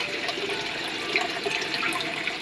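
Water falls from a homemade crayfish tank filter in a steady, splashing trickle. It is moderately quiet and continuous, with brief brighter splashes here and there, and no voices.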